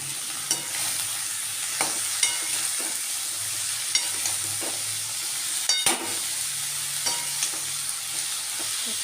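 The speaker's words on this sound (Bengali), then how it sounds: "দেখুন বন্ধুরা আমি ভালো করে মিশিয়ে নিয়েছি" Ridge gourd and coconut fry hisses in a pan while a spatula stirs it with occasional scraping taps, close and steady, with no talking.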